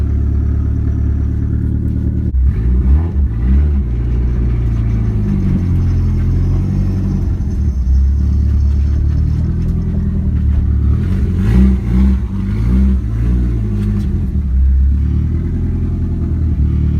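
A drift car's engine cranks and catches, then idles roughly and revs in uneven bursts, loud and close for the whole stretch, with no talking.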